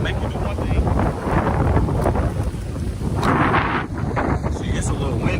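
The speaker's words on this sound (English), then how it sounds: "It's a little windy out here" Strong wind roars outdoors at a campsite, buffeting the microphone with a dense, continuous rumble that swells and eases, with no clear voices over it.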